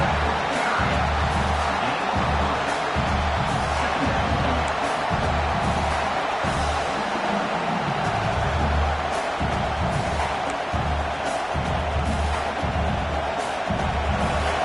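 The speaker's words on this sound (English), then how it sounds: "the crowd coming to life here, trying to help this defense down in the red zone" Dense, roaring crowd at a college football game between Oregon and Oklahoma, a steady wall of stadium noise swelling with cheering as the defense works in the red zone.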